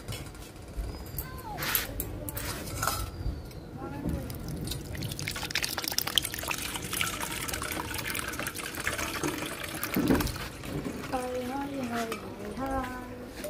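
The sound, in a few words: raw mango juice poured through a large strainer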